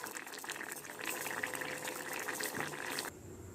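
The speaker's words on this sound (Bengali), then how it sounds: "এই যে আমি এখন তরকারি গরম করছি, এটা হচ্ছে মাছের ঝোল গরম করছি।" Fish curry reheating in a pan on a home stove gives a steady, close bubbling and simmering hiss that runs unbroken for the whole stretch, with a slight dip in level near the end.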